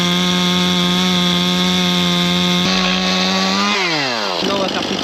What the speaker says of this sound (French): Je vais voir jusqu'à où la tronçonneuse va, je vais la mettre dans ses derniers retranchements.